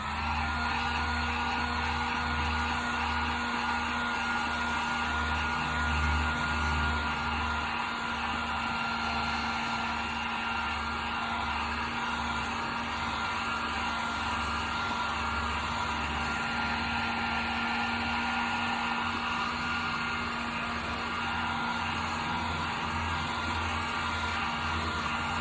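A heat tool blows steadily on an alcohol ink tumbler, giving a continuous loud whooshing hum with an even motor drone, close and unbroken throughout, with no talk.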